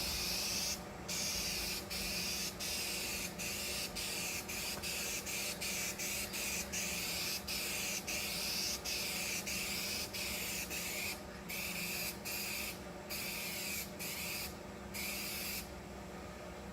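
A spray gun lays a third coat of paint onto repaired fiberglass on a shuttle bus RV conversion, a continuous close hiss broken by many short, regular pauses and bursts.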